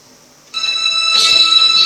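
A phone ringtone rings with a steady electronic tone that starts abruptly and swells louder, sounding close by, with no talking during it.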